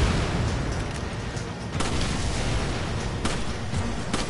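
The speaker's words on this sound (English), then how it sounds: "That's a grenade." A grenade explosion in Resident Evil 5 sounds as a dense, continuous roar of rumbling blasts and debris, loud and close, with a few sharper bursts cutting through the sustained noise.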